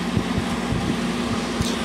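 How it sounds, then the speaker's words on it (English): LG 12,000 BTU 220-volt air conditioner running on low fan with its compressor on, a steady close whooshing hum with a faint low tonal drone and soft rhythmic pulsing, no talking. "I believe it's on low fan"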